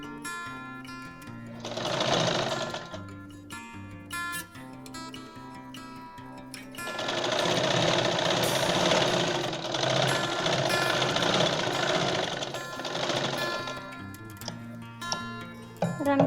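A sewing machine stitches a pair of straight pants in bursts of steady rapid running separated by quieter stretches with light clicks and handling, close by, with no talking.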